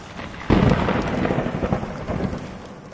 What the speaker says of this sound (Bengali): তবে আজ সকাল থেকে এখানে খুব বৃষ্টি পড়ছে।